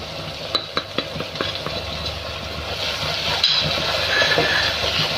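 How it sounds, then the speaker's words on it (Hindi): Chili, salt and turmeric fry in a pan for bhindi masala, giving a steady close sizzle and hiss, with a few sharp spoon taps against the pan early on. "मिर्च को अच्छी तरह से भून लेंगे।"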